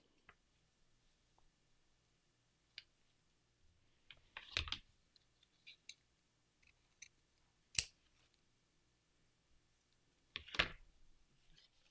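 Scissors trim a small piece of siding for a Halloween house in a quiet room, giving a few sparse, separate snips and clicks, with two louder cutting bursts in the middle and one near the end.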